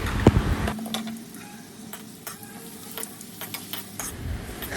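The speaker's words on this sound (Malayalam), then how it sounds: "എന്നിട്ട് ഈ എണ്ണയിൽ വറുത്തെടുക്കുകയാണ് ചെയ്യേണ്ടത്" Papadam pieces frying in hot oil for a papadam chutney give a soft, steady sizzle. A sharp clink and a few light stirring scrapes and taps come on top.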